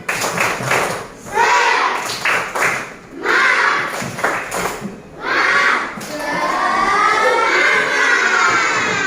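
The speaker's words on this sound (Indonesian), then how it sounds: "kita tepuk semangat dulu ya" A class of children performs a rhythmic spirit clap in an Indonesian classroom, sharp claps and thumps in bursts alternating with chanted group shouting, loud and close, with a pause midway before a sustained stretch of clapping and voices.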